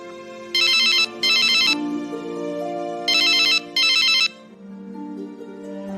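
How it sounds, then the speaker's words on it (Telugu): A mobile phone rings with a melodic ringtone, four bright bursts of a looping tune sounding close and clear, then the melody carries on alone; no one talks. "ఏంటి అన్నిసార్లు ఫోన్ వస్తుంటే లిఫ్ట్ చేయట్లేదు"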